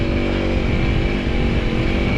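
A Honda CRF300L motorcycle engine runs close and loud on a rally ride, a steady buzzing drone with a rough, rapid pulse and no break.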